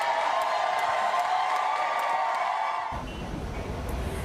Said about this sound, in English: You can hear the room erupting in applause following last night's historic 7-1 vote.